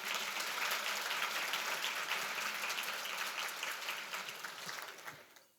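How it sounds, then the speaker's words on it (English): Applause ripples through the crowd at a Chamber of Commerce women-in-business breakfast in Sault Ste. Marie, sustained clapping that gradually thins and fades out near the end. "Another round of applause for Lene."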